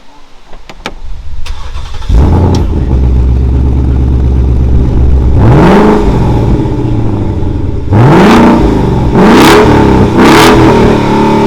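A 2023 Ford Mustang V8 engine starts and idles with a deep rumble, then is revved hard several times in short bursts, loud and close.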